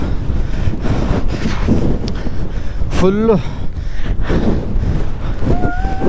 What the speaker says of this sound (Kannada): ಹಿಮ ಬೀಳ್ತಾನೆ ಐತೆ, ಜಾಸ್ತಿ ಗಾಳಿ ಬೀಸ್ತೈತೆ, ನಿಲ್ಕೊಳ್ಳೋಕೆ ಆಗ್ತಲ್ಲ